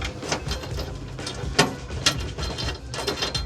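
A 13mm socket wrench tightens M8 bolts on a MOLLE panel installed in a GWM Cannon ute, giving close, rapid ratcheting clicks in short uneven bursts.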